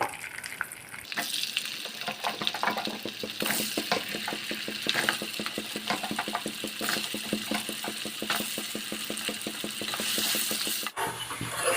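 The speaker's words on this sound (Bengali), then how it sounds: "এবার আমি এই তেলেতেই আলুটা ভেজে নেব।" Potatoes frying in oil in a pan, a constant close sizzle overlaid by rapid rhythmic scraping of a spatula stirring against the pan, no talk.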